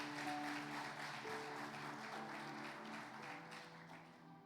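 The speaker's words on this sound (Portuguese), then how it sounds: "Meu Deus, aplauda Ele por isso." A church congregation applauds at a Portuguese-language worship service, a steady wash of clapping with organ or keyboard chords held underneath, sustained throughout and fairly soft.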